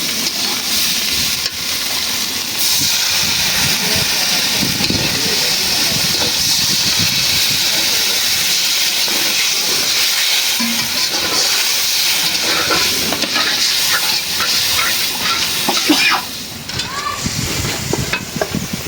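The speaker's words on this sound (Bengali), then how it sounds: "মশলাটা কষানো হচ্ছে" Spice paste sizzling and frying in a pan while being stirred for a papaya curry, a steady close hiss with scraping stir sounds throughout.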